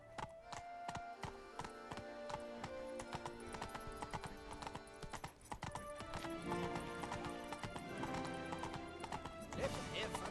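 Hooves of Roach, the horse in The Witcher 3 video game, clip-clop steadily throughout amid busy game music and effects, with a whinny standing out clearly and no talk over it.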